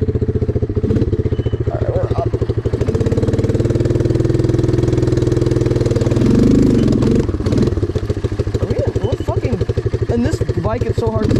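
A 1985 Suzuki Quadrunner ATV engine runs in water with a steady, loud pulsing drone that rises in pitch midway, with talk over it.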